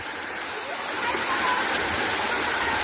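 Steady rain pours down as a dense, continuous hiss that swells slightly louder midway, with no distinct drops standing out.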